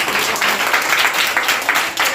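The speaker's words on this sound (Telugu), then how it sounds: "విలువైంది అన్న వారు గట్టిగా చప్పట్లు కొట్టండి" A group of children claps in a room, a dense and fairly loud patter of hands that rises and falls in short bursts.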